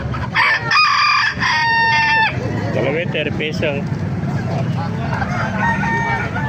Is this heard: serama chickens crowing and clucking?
yes